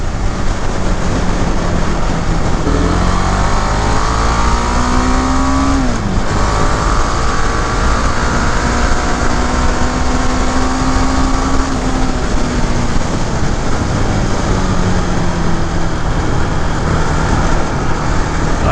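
A 2018 KTM 690 Duke single-cylinder motorcycle is ridden along a road, its engine loud and close with rising and falling revs and gear changes under constant wind rush.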